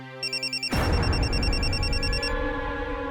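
A telephone rings with a bright, repeating electronic trill that starts softly and then cuts through suddenly as louder noise swells in, staying up close and steady with nobody talking.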